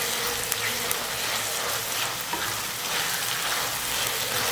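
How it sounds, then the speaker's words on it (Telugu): Masala spices roasting in a hot pan, a dense, steady frying hiss that stays even throughout, fairly loud, with faint stirring taps and no voices. "ఈ మసాలా కూడా మనం వేసిన తర్వాత మనం ఇలా కొద్దిసేపు వేపుకోవాలి"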